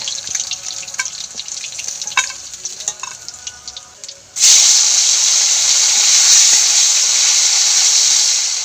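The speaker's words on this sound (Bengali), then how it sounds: "এইভাবে সব মাছগুলো ভেজে নেব" Oil sizzles loudly around snakehead fish in a pan, the broad hiss jumping abruptly louder partway through and holding steady, after a softer stretch of scattered clinks and movement.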